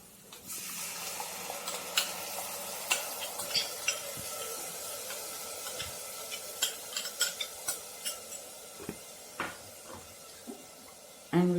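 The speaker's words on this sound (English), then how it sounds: "And we should mix it well." Curd mixture being stirred into a gatte curry in a pot, a spoon scraping and clinking in a steady series of soft taps against a faint wet background, with no talking.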